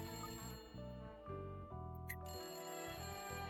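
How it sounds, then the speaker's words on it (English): A telephone rings in the mystery video game Layton Brothers Mystery Room, repeating electronic ringtone bursts in a steady pattern alongside music, moderately quiet and with no voices over it. "Oh, that's the phone."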